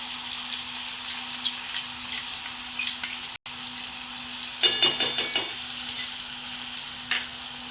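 Masala paste of onion, tomato, garlic and ginger sizzles steadily in oil in a pan, a continuous frying hiss with a burst of louder stirring scrapes and crackles partway through; no talking.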